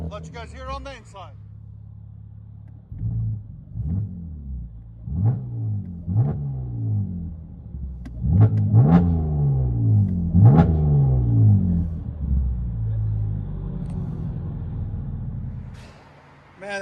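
From inside the cabin, a Chevy Camaro V6 with Dynomax exhaust gives a series of short, sharp revs over a low idle drone, muffled and booming, with voices around it.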